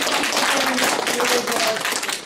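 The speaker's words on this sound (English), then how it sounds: "let's give a round of applause for Mike" A small audience claps together for speaker Mike at the close of an evening talk, a short burst of dense close clapping with voices murmuring underneath.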